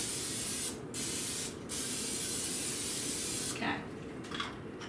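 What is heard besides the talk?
non-stick cooking spray sprayed into crock pot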